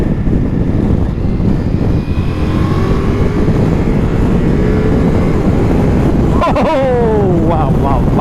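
A Ducati Multistrada V4S motorcycle in sport mode accelerates, its engine droning loudly under heavy wind rush, with rising gear pulls near the end and a rider's voice faintly mixed in.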